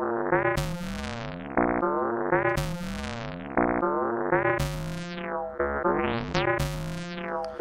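An Elektron Analog Four synthesizer plays a looping pattern of buzzy, fart-like tones with sweeping pitch bends, repeating in short rhythmic phrases, loud and alone.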